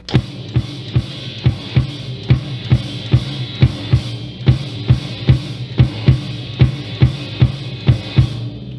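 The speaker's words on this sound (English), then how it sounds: "we have the 3-2 clave happening over here with the Tube of Doom kick drum" A kick drum and orchestral crash hit together in a repeating syncopated 3-2 clave pattern, a steady loop of punchy thuds with bright washy cymbal tails.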